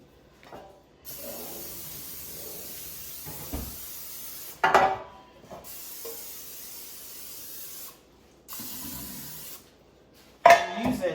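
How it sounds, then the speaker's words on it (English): Nonstick cooking spray hisses onto baking pans for sandwich bread in a home kitchen, several short bursts of a few seconds each, close and fairly loud, with quieter handling noises in between. "Then I'm going to spray my pans."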